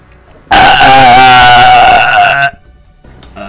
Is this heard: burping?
yes